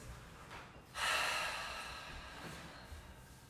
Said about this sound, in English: Take a few open mouth exhales.